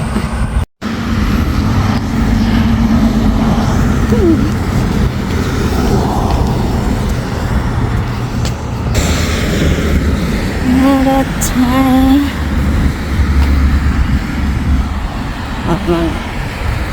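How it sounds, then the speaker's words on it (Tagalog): Road traffic rumbles steadily past a person walking outdoors, cars and larger vehicles washing by at close to middling distance while someone talks briefly over the noise. "Mga sasakyan."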